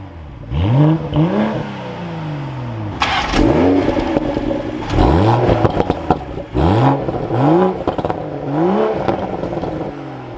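Two cars with B58 engines, a BMW M240i and a 2023 Toyota Supra, drive on the road, one automatic and one manual. The engine rises loudly in repeated revving pulls with quick upshift dips between them, close and alone.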